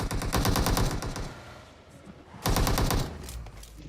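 Gunfire in the mobile game PUBG Mobile: two loud bursts of rapid automatic shots separated by a short quiet gap, with no voices over them.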